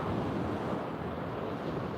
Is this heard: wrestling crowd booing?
no